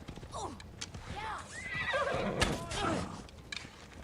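A horse in the game Assassin's Creed Odyssey whinnies with a rising and falling neigh, mixed with hoof clip-clop and background game sounds at moderate volume.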